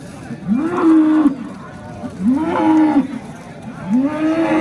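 At the Yakkatut livestock bazaar in Andijan, a cow gives three long, loud, drawn-out moos close by, evenly spaced, with little else around them.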